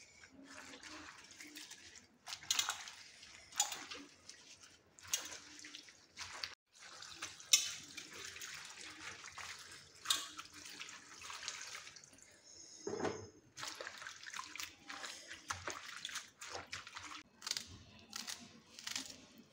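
Wild leafy greens are rinsed by hand in a vessel of water, with faint, intermittent splashing, sloshing and dripping and short quiet gaps, close by and with no talking.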